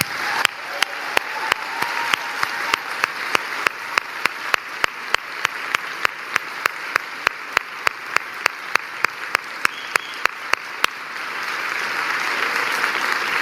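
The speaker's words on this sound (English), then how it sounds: "Can we please applaud them?" A large audience applauds Megan and John for their courage, a dense, steady wash of clapping sustained for over ten seconds, with one sharp clapper cutting through in a regular beat and the crowd swelling again near the end.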